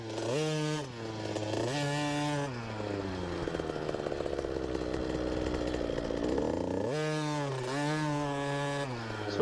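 A kids' TC50 dirt bike, the same as a KTM SX50, ridden by a four-year-old child, its small two-stroke engine buzzing loud and close, revving up and down in waves with a steadier drone through the middle.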